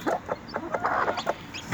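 A Denizli hen clucks near her chicks, rapid repeated clucks and chirps close by, with the small high peeps of the chicks mixed in and no talk.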